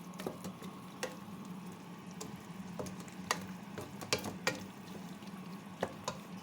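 Tomato sauce sizzles quietly in a hot pan, a low steady bubbling hiss with scattered soft pops and occasional clinks of a utensil.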